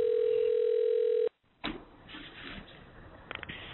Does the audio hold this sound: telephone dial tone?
yes